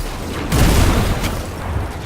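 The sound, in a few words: grenade explosion in video game Destiny 2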